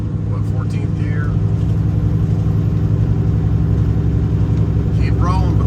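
A truck engine runs hard at high RPM with boost up, pulling up a mountain grade in 14th gear, a loud, steady low drone heard from the cab while someone talks over it.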